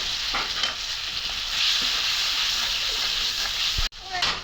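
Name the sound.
frying spice paste with turmeric and chili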